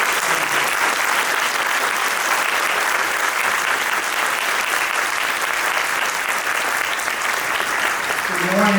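An audience at a conference opening session applauds to welcome the 15th Chancellor of NC State: sustained, full clapping from a large crowd that fills the room without pause.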